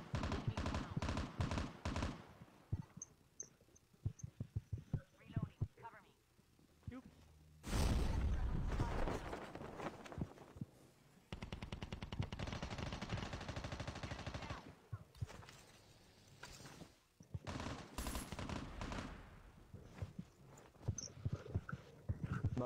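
Rapid bursts of gunfire from the Call of Duty Mobile video game, with automatic weapon fire alternating with short single shots, loud and dense in stretches, while players talk over the action.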